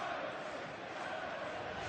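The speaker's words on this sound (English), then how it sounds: "Crowd trying to get involved, but a noise pouring down from the Stretford end now" A football crowd at Old Trafford's Stretford End during Manchester United vs Hull City makes a steady, distant-sounding roar, an even wash of massed voices with no distinct shouts standing out.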